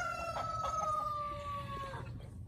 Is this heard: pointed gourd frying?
no